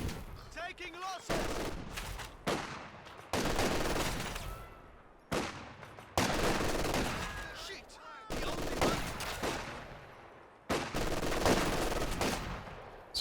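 Rifle and LMG fire in Company of Heroes 2 crackles in dense, continuous bursts, loud and overlapping, broken by brief gaps every couple of seconds, with a voice occasionally talking underneath.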